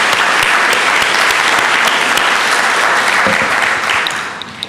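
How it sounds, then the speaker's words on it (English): A congregation at its annual meeting claps together in a dense, steady round of applause that fills the room, holding strong before thinning out near the end. "a round of applause"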